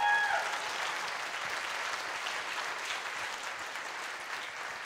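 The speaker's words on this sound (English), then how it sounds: "Give her a big round of applause." An audience at a gathering bursts into a big round of applause, dense steady clapping that starts loud and holds evenly for several seconds.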